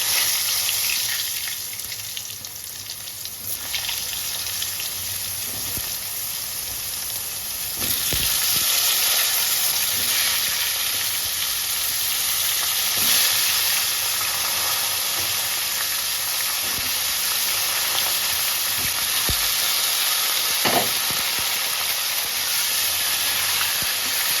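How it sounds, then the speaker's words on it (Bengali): Steady, loud sizzling of pointed gourd deep frying in hot oil, a continuous crackling hiss with occasional small clinks throughout. "পটলগুলোকে ডিপ ফ্রাই করে দেবেন"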